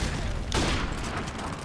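A sudden burst of gunfire erupts amid a noisy soundscape in an online Call of Duty: Modern Warfare Remastered match, followed by a lingering rumble of background effects.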